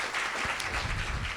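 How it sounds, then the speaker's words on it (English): Sustained applause from a forum audience, a dense, even wash of clapping hands with a few low thumps mixed in, steady and fairly loud throughout. "We'll do one more round of applause."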